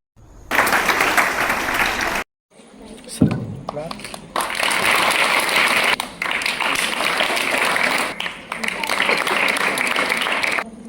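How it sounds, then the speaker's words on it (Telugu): Audience applause at a local news event, loud sustained clapping from a crowd that breaks off briefly, then resumes steadily and continues to the end. "అందరూ కూడా గట్టిగా చప్పట్లు కొట్టారు"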